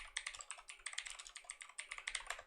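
Rapid, uneven typing on a computer keyboard, with clustered key clicks and brief pauses, close and clear with no voices.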